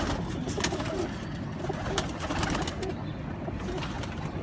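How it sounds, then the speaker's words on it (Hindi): Salara breed pigeons coo in a pigeon loft, a steady soft murmur of low cooing close by, with a few sharper clicks over the top and no speech. "दूसरा कबूतर आपको सलारा दिखा रहे हैं, सलारा टैडी"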